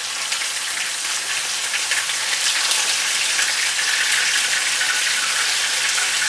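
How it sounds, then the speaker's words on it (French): Makayabu salted fish fries in hot oil, giving a steady, even sizzle and crackle like light rain that holds at a moderate level with no voices. "on va frire les makayabou,"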